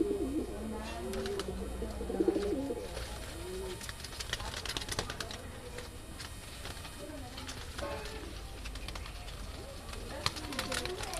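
Several old green-eyed Madrasi pigeons in a loft give repeated soft, throaty coos and murmurs against a constant noisy background hiss.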